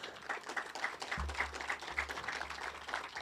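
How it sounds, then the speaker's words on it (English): Audience applause at an Arbor Fest opening ceremony for young players, soft scattered clapping heard from a distance with a few louder individual claps and a low rumble partway through. "I want us to give them a round of applause"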